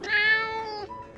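A single clear cat meow, close and fairly loud, one drawn-out call with a slight downward bend at the end.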